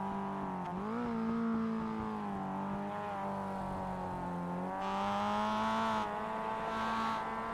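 A race car engine at Laguna Seca in a racing video game drones steadily near the listener, its pitch dipping briefly and then climbing slowly as the throttle opens, with a faint whine on top.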